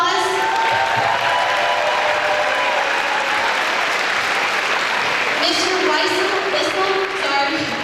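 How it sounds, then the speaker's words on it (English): Loud, sustained crowd applause for a community member at a school Special Olympics pep rally, dense clapping in a large echoing gym with scattered voices and cheers mixed in throughout. "let's give her a round of applause."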